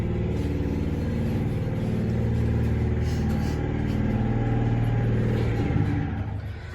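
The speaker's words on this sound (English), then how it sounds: "I love that grinding motor." An Otis elevator motor in a Reno building hums and grinds steadily while the car runs, a low continuous drone with a faint rise near the end and no voices.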